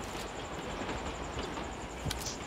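Train in the mobile battle royale game BGMI, heard as a steady low rumble with faint rattling, fairly quiet and continuous.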